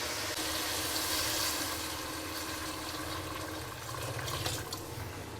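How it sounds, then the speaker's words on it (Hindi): Water is poured steadily into a pan of fried potatoes and peas cooked with tomato, garlic and ginger paste, a continuous close splashing rush with no talk. "अब इसमें हम डालेंगे ये पानी"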